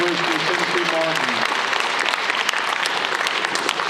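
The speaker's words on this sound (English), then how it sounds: "one more round of applause" Audience applause closing a high school National Signing Day event at Dobyns-Bennett, steady dense clapping filling the room throughout with a few voices briefly audible at the start.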